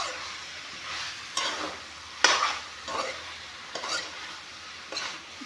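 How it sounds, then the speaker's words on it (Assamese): Meat sizzles and fries in a pan while being stirred with a utensil, several distinct scraping strokes rising over a steady close sizzle and no talk. "এতিয়া মাংসখিনি অলপমান টাইম ভাজি ল'ম।"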